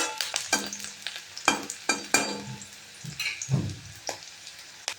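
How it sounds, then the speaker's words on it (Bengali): Chopped onions and slit green chillies frying lightly in oil with garam masala, a spatula stirring and scraping the pan in repeated strokes over a soft steady sizzle. "গরম মশলার সাথে পেঁয়াজ লঙ্কাকে আমি হালকা করে ভেজে নেব।"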